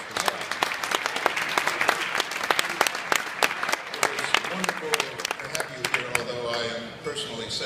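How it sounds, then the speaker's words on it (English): Audience applause fills an awards ceremony hall at a press freedom event, dense steady clapping from many hands sustained for several seconds before slowly thinning out toward the end. "Can we give her a round of applause?"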